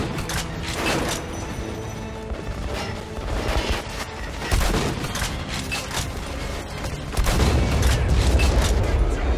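Gunfire in the Metro Last Light video game's final battle, dense bursts and heavy booming shots rolling continuously, loud and close, with a stronger low rumble near the end.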